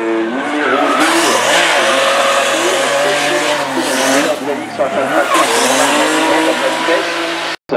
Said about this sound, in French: on s'élance pour la E36M50 turbo, très intérieur aussi